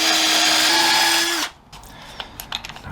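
A power drill whines loudly for about a second and a half while driving screws into wood for a Leopold chair, then cuts off, leaving a few faint clicks and taps of handling.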